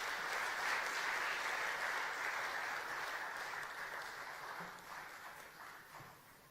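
A crowd at a state event led by the Madhya Pradesh chief minister applauds newly passed UPSC candidates, continuous dense clapping that holds steady and gradually fades over several seconds.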